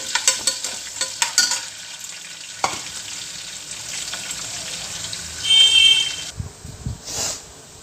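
Chopped onions and green chilies, added after ginger, fry and get stirred in a home kitchen pan, a close sizzle with scraping stir strokes and brief clatter, ending in a short bubbling burst.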